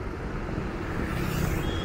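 A big car driven flat out gives a dense, steady roar of engine, wind and road noise that fills the interior, swelling slightly toward the end with no pauses.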